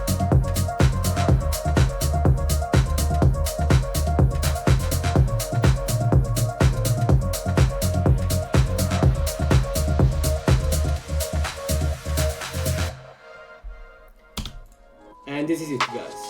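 The final drop of an electronic track, where harp sits over pounding drums and a heavy bass line, plays loud and dense for about thirteen seconds. It then thins to sparse sounds near the end.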